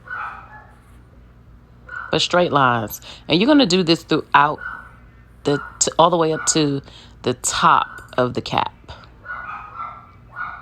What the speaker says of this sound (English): Y'all excuse my dogs in the background.